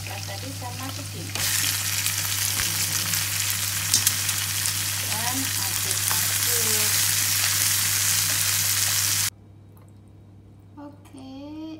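Boiled and squeezed genjer greens are stir-fried in a pan, a loud sizzle that jumps up when the vegetable goes in, with scraping stirs over a steady hum before the frying stops abruptly.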